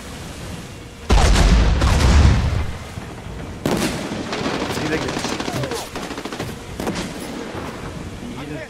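A grenade blast and rattling gunfire in a survival shooter video game, a heavy booming explosion followed by another burst and sustained rapid firing, loud and close with voices talking over it.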